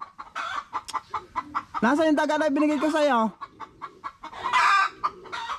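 Hens cluck in short, repeated bursts near their chicks, with one drawn-out, strained call in the middle. Close by, someone talks intermittently over them.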